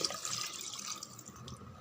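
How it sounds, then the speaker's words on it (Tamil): A tumbler of water poured into a pot of mini basmati rice biryani makes a brief, quiet splashing trickle lasting under two seconds, close by with no talking. "ஒரு டம்ளர் தண்ணி ஊற்றிடுங்க."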